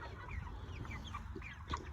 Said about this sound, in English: Here's the meat chickens.